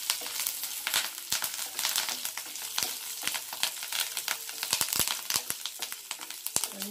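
Curry leaves crackle and sizzle in hot oil in a pan, a dense steady frying hiss broken by sharp pops and spits, close and fairly loud with no talk.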